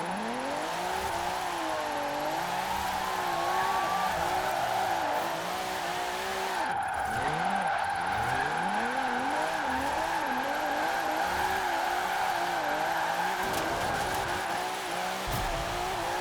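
Retro Alfa Romeo in Forza Horizon 4, its engine note rising and falling steadily through gear changes with sustained tire squeal and skidding over the whole stretch, loud and continuous with no talk.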